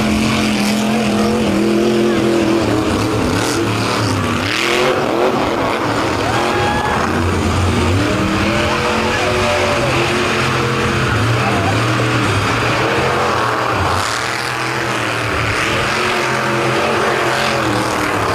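Monster truck with a broken left rear wheel roars across a beach arena, its engine loud and continuous with revving surges and a big impact, crowd noise and commentary throughout.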